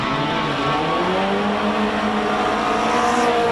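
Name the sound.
Lotus 7 race car with Toyota engine at hillclimb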